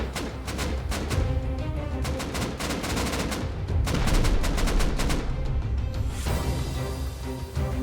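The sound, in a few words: rockets exploding during a raid in the video game Rust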